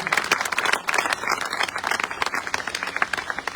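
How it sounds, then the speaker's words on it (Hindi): Audience applause at a direct selling business meeting, a dense, steady patter of many hands clapping together for several seconds with no voices over it. "ऐसे लीडरशिप के लिए एक बार जोरदार ताली, जबरदस्त ताली।"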